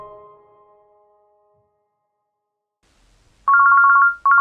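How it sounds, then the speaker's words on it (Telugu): A mobile phone ringtone going off early in the morning in a quiet room: after a fading tone and near silence, a loud, close, rapidly warbling electronic ring sounds in two bursts. "పొద్దు పొద్దున్నే ఫోన్ ఎవడరా?"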